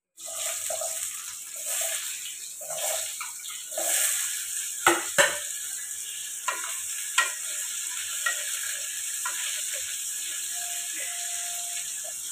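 Potatoes and pumpkin frying in spiced oil, a steady soft sizzle with scattered scraping and clicking stirs, a few sharper knocks in the middle, close and fairly quiet.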